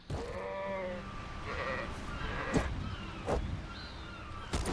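Sheep bleat in the fantasy video game Arcania, with several wavering calls over a soft ambient background and a few brief sharp hits.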